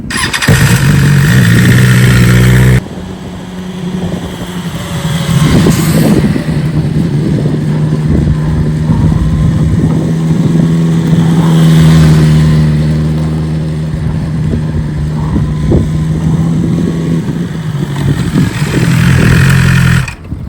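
A motorcycle rides through a turn while practising knee dragging, its engine loud and close with a steady roar that rises and falls as the throttle changes, with a brief dip partway through.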